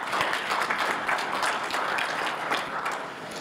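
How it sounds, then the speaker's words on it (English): A crowd claps at a World AIDS Day commemoration, a steady, full wash of applause filling the room evenly throughout, with no speech over it. "I think we should give the country a clap"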